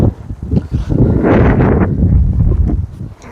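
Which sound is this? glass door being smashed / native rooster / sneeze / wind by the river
wind by the river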